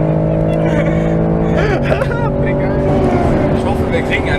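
A 2013 Porsche Cayenne GTS engine roars loudly and close, a steady growl with a rising swell as it passes, while people chatter over it.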